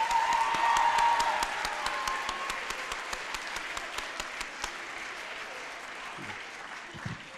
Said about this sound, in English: let's give a big round of applause to all the kids and teachers.